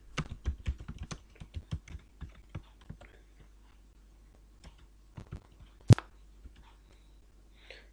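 Fast typing on a computer keyboard during accounting data entry in Tally ERP9, a dense burst of close key clicks that thins out into scattered taps, with one sharp louder click.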